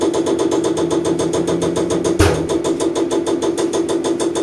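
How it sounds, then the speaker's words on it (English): Common rail diesel injector pulsing on a calibration bench, a steady rapid train of sharp ticking clicks with a brief louder burst near the middle, close and loud with no talk. "And you can see it's opening the injector."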